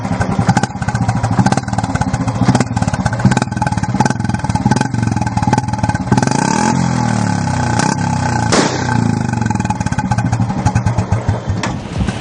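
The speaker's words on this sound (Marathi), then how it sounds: "फटाक्यांसारखा आवाज करणारी बुलेट गाडी" Modified Royal Enfield Bullet motorcycle in Jalgaon with an exhaust that bangs like firecrackers, rapid loud chugging thumps and crackling pops, with revs rising and falling, close and continuous.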